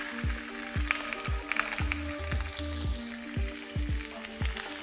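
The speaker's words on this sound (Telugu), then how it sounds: "ఇవైతే కుక్కర్లో బాగా ఏగవని ప్యాన్లో వేసి సియర్ చేసుకుంటున్నాను" Lamb shanks sizzle steadily while they sear in a hot pan, with a rhythmic series of sharp ticks and pops repeating through the frying and no talking.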